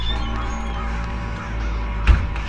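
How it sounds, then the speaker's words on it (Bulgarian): Crows cawing in the horror game Pineview Drive, harsh caws over a steady low ambient hum, with a sharp thump near the end. "Защо има толкова много птици, бе?"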